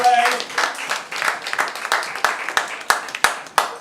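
Scattered audience clapping at a comedy club show, a thin, uneven patter of claps with sharper individual slaps near the end, mixed with crowd murmur.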